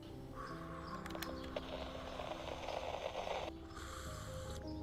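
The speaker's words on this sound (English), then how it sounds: "Early in the morning, Birds singing." Birds call in the early morning, with crow-like caws and scattered chirps over a steady outdoor background, moderately near and without talk.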